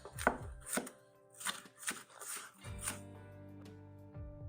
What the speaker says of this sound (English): now that we have chopped it up to our liking